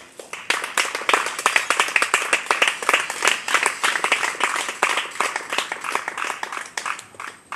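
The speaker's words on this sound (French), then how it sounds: "Nous allons applaudir la parole de Dieu." A church congregation at a French-language service claps together in a loud, close, brisk rhythm of many hands, the beats steady and regular before tapering off, with no speech over it.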